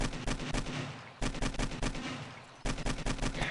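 Bursts of automatic gunfire from the video game 7 Days to Die, three dense volleys separated by short gaps, moderately loud with no talking over them.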